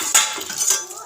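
Spoons and plates clink together during dish washing, a short burst of bright metallic chinks close up within about a second.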